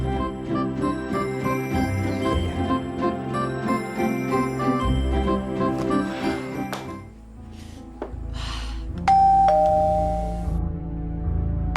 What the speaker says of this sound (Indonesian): Aku mencet-mencet bel di luar